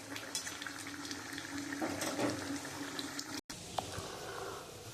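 Fish curry with pointed gourd simmering in a pot, a soft continuous bubbling and faint liquid burble close by, briefly cut out, with no talking.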